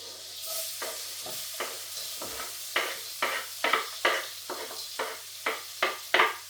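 Butter and olive oil in a pan on low heat, a soft steady sizzle under a low hum, broken by a series of scraping stirring strokes that come more often and louder toward the end.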